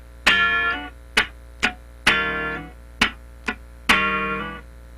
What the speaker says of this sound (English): That's the basic slide.